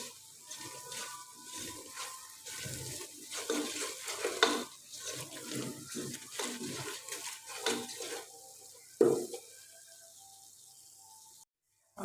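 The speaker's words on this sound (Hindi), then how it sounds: "और फिर पानी ऐड कर देंगे।" Water poured into a pan of frying spiced black chickpeas, a splashing, bubbling pour with stirring and clinks of utensil on pot, then a brief loud knock before it cuts to near silence.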